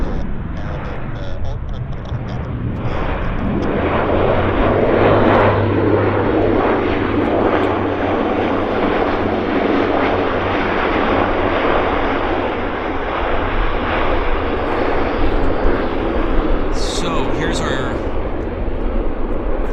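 Q400 turboprop aircraft at Vancouver Airport, a loud sustained broadband roar with a steady low propeller drone that swells and holds for the whole stretch, a distant radio voice faintly present.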